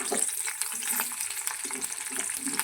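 Onions frying in hot oil for a country-style chicken curry, a soft, steady sizzle with scattered crackles and stirring scrapes, fairly faint and heard alone.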